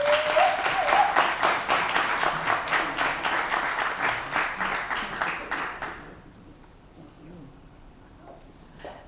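A lecture audience welcomes a speaker with warm, full applause lasting about six seconds, then the clapping dies away to near quiet room tone.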